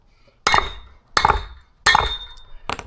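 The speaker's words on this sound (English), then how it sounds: "you should be able to just hit them through with a hammer" Four sharp metallic hammer strikes drive wheel studs out of a 1990 Ford F250 front hub at even intervals, each with a bright clanging ring that fades before the next blow.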